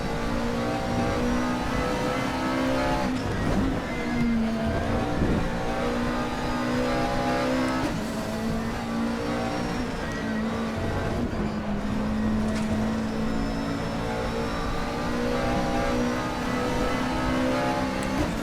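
McLaren 12C GT3 race car in a racing video game at the Sachsenring, its engine droning continuously at high revs with smooth pitch sweeps through gear changes, no voices over it.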